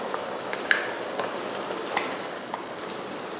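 Onion and ground masala fry in hot oil, giving a soft, steady sizzle with faint crackles and a few sharp pops.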